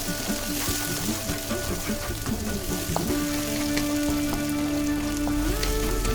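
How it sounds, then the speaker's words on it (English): Vegetable paste for dhaba-style paneer masala sizzles steadily in a hot pan, a continuous soft crackle and hiss with faint stirring scrapes, no voices. "In that I am putting the paste, the vegetable paste that we have made, and we will stir it nicely."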